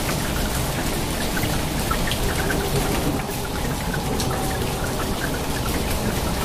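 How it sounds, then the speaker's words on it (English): A thunderstorm over Mecca brings heavy rain and hail that pound surfaces in a dense, constant roar at close range, with no clear thunderclap standing out. "As thunderstorms hit the holy city of Makka on Friday"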